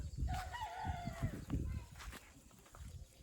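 Chickens cluck and call close by, a short rising crow-like note early on, with footsteps and rustling and some talk in the background.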